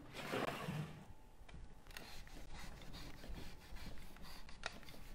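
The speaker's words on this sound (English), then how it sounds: "So what I'm doing now is just wiping it all back with the TSP solution" A cloth wiping a previously sanded wooden chair with TSP solution, giving soft, repeated rubbing and scrubbing strokes at close range with a few light knocks, with no voices.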